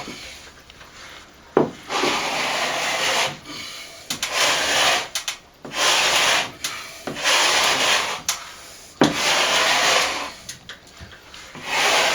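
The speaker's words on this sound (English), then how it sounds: "Scraping it different ways." Plaster being scraped off a ceiling where a ventilator used to be, heard as rough, rasping scraping strokes in an uneven rhythm with short pauses between passes, close and fairly loud.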